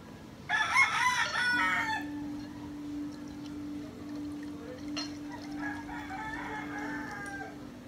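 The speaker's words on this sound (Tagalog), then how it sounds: "nasa labas, ang ingay ng mga manok" A rooster crows loudly nearby, then hens cluck and cackle more softly, with a faint steady hum in the background.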